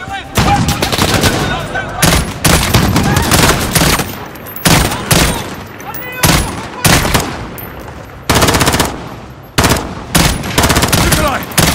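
Gunfire in the PC campaign of Call of Duty: Modern Warfare: loud, dense bursts of shots and automatic fire, repeatedly broken by short pauses, over a battle din.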